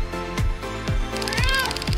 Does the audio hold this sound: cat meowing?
yes